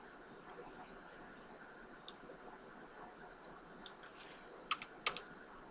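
Quiet, soft keystrokes on a computer keyboard while a name is retyped, a few scattered taps followed by two sharper clicks near the end, faint and close with low background hiss.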